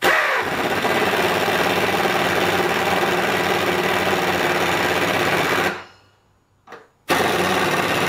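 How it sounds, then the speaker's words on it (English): An air compressor in a blacksmith's forge shop runs loud and steady with a constant motor drone, then cuts out abruptly, leaving near silence for about a second before the noise resumes. "That compressor will kick on here in a minute and drive us all crazy."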